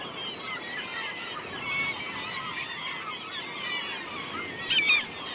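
Seabirds call over Caspian Sea sandbanks with a steady, distant chorus of honking cries and a louder cluster of calls near the end, with no talk.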